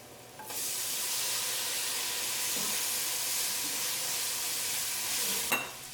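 Tomato drops into hot coconut oil for a curry, setting off a sudden loud sizzle that holds steady and close throughout, with a brief utensil tap near the end.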